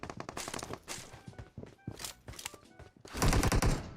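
Rapid gunfire in the PUBG Mobile battle-royale game, with repeated automatic bursts and single shots that grow into a loud, dense volley toward the end.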